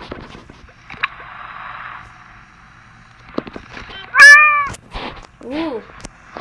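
A cat meows in the mobile video game Crossy Road, giving a loud, clear meow followed by a shorter, softer second meow amid scattered clicks and game effects.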